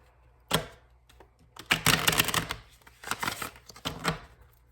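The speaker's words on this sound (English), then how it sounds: "Horrible shuffle." Riffle-shuffling a deck of tarot cards, heard as several close, crisp bursts of fluttering card slaps separated by short pauses, with faint handling noise between them.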